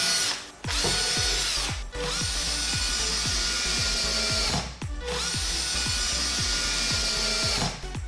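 A power drill drives screws into wood in loud, sustained bursts, pausing briefly between screws, with repeated rhythmic ticking under the motor whine and no voices.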